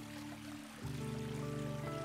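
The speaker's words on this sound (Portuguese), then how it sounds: "O som da água corrente" Running water from a flowing stream murmurs steadily with a continuous close wash, and a low sustained tone swells in partway through.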